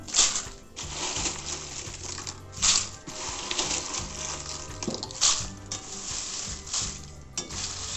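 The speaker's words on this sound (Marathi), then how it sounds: "प्रथम आपण लवंगी मिरची भाजून घेऊया" Lavangi chillies roast dry in a pan over a gas flame, giving a soft sizzle broken by repeated rattling scrapes and tosses as they are stirred, moderately close and without speech.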